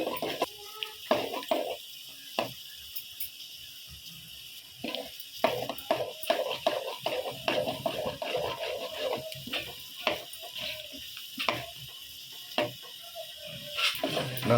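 A spatula stirs and scrapes a blood and egg stir-fry in a pan, giving repeated irregular clinks and scrapes over a faint sizzle, fairly close and steady throughout.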